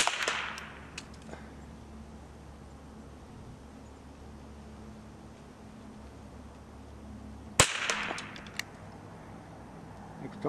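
A Marlin Model 60 rifle fires CCI standard velocity rounds, two sharp cracks several seconds apart with a quiet outdoor hush between them.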